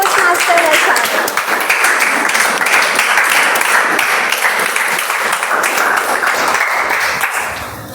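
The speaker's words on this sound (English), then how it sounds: "Please give a round of applause for Toastmaster Vaishak." An audience at a Toastmasters meeting applauds a speaker who was a division finalist in the 2023 International Speech Contest. The dense, steady clapping runs for about eight seconds at close range, with faint voices beneath it, before it tapers off.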